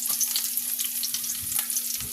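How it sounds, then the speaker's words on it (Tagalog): Garlic sautés in a pan of hot oil with a steady close sizzle and light crackling, short and continuous with no one talking. "Tuloy lang natin ang paggisa."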